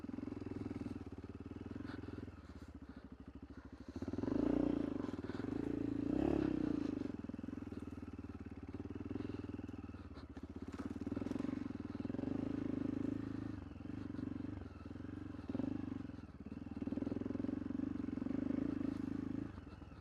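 A Kovi ADT 300 enduro motorcycle rides offroad, its engine droning steadily close by with surges of revving and clattering over rough ground, with a few spoken words under it.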